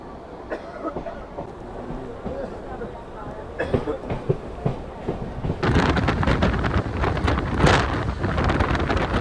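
A delayed Kolkata to Rampurhat local train runs along with a rattling rumble and wind buffeting, quieter at first and then swelling to a loud, continuous roar through the second half.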